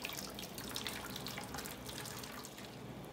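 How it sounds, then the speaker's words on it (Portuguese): Hot water pours steadily into a baking tray set up as a water bath for a quindão, a continuous close splashing stream with no voices. "a gente vai colocar água aqui nesse tabuleiro, tá? Eu já tô colocando a água quente"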